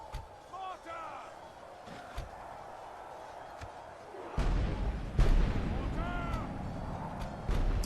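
Deep booming cannon blasts from Medieval II: Total War (Call of Warhammer mod), a heavy rumbling one midway followed by more thuds, with bits of talk scattered through.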